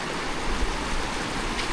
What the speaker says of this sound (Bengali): ঝিরিপথের শব্দ শুনুন একবার